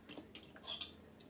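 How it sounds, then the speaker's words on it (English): A spoon stirs a homemade mead mixture of marmalade and raspberry jam dissolved in hot water, giving soft, close clinks and scrapes against the vessel, quiet and irregular. "And then we're going to mix it all up."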